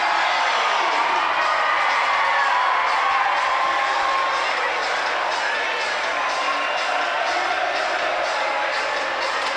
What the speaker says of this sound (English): Listen to that roar at Sandy Park